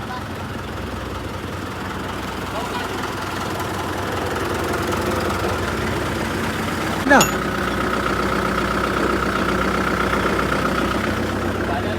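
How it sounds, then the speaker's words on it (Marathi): A tractor engine with a worn clutch plate idles steadily in a low, continuous rumble, with a brief sharp noise in the middle and people talking nearby. "आपल्या ट्रॅक्टर सुरू"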